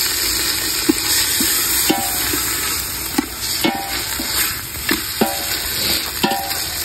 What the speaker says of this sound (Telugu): ఇప్పుడు బాగా కడిగిన చికెన్ నూనెలోకి వేసుకోవాలి